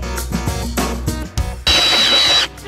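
A power drill fitted with a worn drill bit whines in one sharp burst of under a second during a home DIY project, preceded by scattered knocks and clatter, with no talking.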